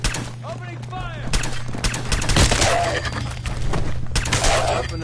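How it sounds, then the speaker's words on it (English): Rapid gunfire crackles in Fallout 4 modded gameplay, loud overlapping shots and bursts with combat chatter and effects layered underneath. "Opening fire!"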